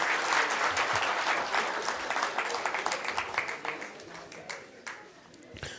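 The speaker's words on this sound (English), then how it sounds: "another round of applause, please, as they depart" Audience at a census report launch event giving a round of applause, dense clapping from many hands that starts strong and gradually thins out and fades toward the end.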